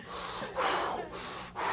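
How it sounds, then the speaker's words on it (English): Slow, deep breaths close to the microphone, about four airy inhales and exhales alternating in a steady rhythm, breathy and full with no talking. "And start breathing deep."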